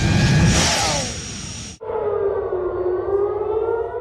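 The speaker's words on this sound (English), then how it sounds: "Air raid sirens rang out across Tel Aviv early today" Air raid sirens wail across Tel Aviv, a loud sustained tone that cuts off abruptly and then resumes as a steady, slowly sliding wail further off.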